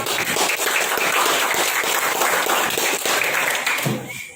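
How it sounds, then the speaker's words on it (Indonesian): A group bursts into steady, dense applause, many hands clapping at once, fading out near the end. "Silakan tepuk tangan buat kelompok."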